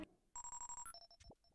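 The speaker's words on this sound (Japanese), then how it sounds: "着信だ。" An incoming-call ringtone in the video game Pikmin 3 Deluxe plays a quick series of bright, evenly pulsed electronic beeps, followed by a short falling and rising chime flourish, clear and alone.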